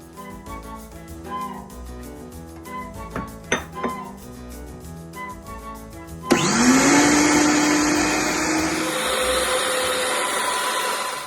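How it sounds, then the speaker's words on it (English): A high-powered blender starts up at full speed and grinds rolled oats into flour, a loud sustained whir with a rising motor pitch that shifts partway through, following a few quiet kitchen clinks. "We're going to add it to the blender, our high-powered blender, and you'll see it transform into flour"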